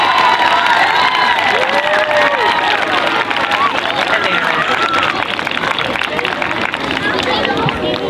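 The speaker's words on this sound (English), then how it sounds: "can we give him a big round of applause?" Children cheer, shout and clap for a teacher at a school assembly, a loud, dense crowd noise with high excited voices rising over steady applause throughout.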